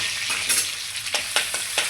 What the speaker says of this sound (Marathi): ह्यात पण आपण लसूण टाकून देऊया फोडणीला